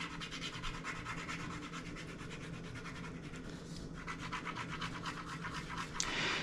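Thirty-minute epoxy is stirred for a model plane repair, giving a continuous close scraping and rubbing with a quick, steady rhythm and no talk.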